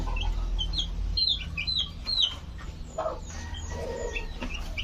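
High, thin chirps from young chicks repeat in quick bursts over a steady low hum, with a few softer clucking sounds later.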